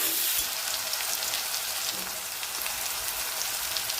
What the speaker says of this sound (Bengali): এবার টমেটো যেটা দিয়ে দেবো, তো নুন দিয়ে দিচ্ছি। নুনটা দিয়ে কষবো,